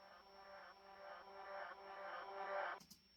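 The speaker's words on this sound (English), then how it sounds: "this kind of reverse delay sounds like this." Reverse delay effect on an electronic track: a soft, swelling tonal wash that builds steadily in loudness, then cuts off abruptly with a brief click, faint and isolated.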